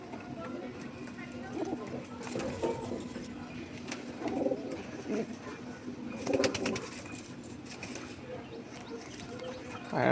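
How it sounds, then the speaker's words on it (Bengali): A pet Kaldom pigeon coos in a few soft, low bursts among other indoor noise, with someone speaking nearby. "কালদম পায়রা।"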